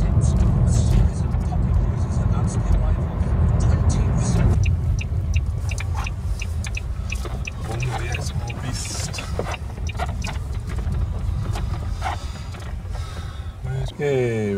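A family car drives along a road toward Croyde Bay, heard from inside as a steady engine and tyre rumble that shifts in tone partway through, with faint cabin noises.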